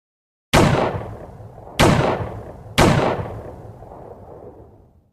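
Three loud, close gunshots ring out one after another, each a sharp crack with a long booming decay, spaced roughly a second apart.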